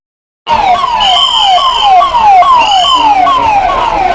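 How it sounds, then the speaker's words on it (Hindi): Ambulance sirens wail up close and loud at the Maha Kumbh stampede site in Prayagraj, their falling tones repeating rapidly in a steady rhythm with no talk. "तो एक के बाद एक किस तरह से एम्बुलेंस पहुंच रहे हैं"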